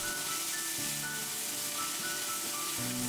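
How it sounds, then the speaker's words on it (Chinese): Diced mutton is stir-fried in hot oil in a wok, producing a continuous, even sizzle and crackle up close, with faint tonal hums beneath and no voices. "油烧热后倒入羊肉丁翻炒"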